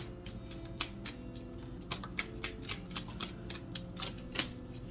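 Soft, rapid riffling and flicking of tarot cards being shuffled, a quick irregular patter of light taps over a quiet hum, close by.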